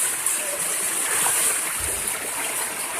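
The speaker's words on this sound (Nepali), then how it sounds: "नहरबारीको पानी यता यता आउँदैछ क्या यार" Rain floodwater overflowing from a canal rushes through a street in Biratnagar, a loud, continuous roaring wash with splashy turbulence and a low thump partway through.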